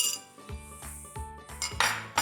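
Spoonfuls of sugar syrup go into a kiwi mocktail glass, with a spoon clinking against the glass about four times in a quick, uneven rhythm, close and fairly loud, with no talking.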